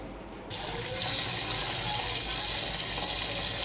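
Rice for a mutton biryani is washed in water, with a brief quiet moment before a steady splashing, tap-like flow of water fills the vessel close by.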